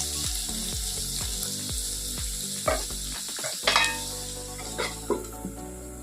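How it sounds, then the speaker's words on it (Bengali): Bottle gourd peel frying in a pan with nigella seeds and green chili, salt, turmeric and a little sugar, a steady sizzle broken by repeated spatula scrapes and taps, closer clanks in the second half. "এই চোকাটাকে আমি কালো জিরে কাঁচা লঙ্কা ফোড়ন দিয়ে ভাজি"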